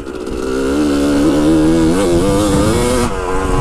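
A dirt bike fitted with a Lectron carburetor roars loudly and close while being ridden, its engine note climbing and wavering as the throttle rises and falls, with wind noise across it.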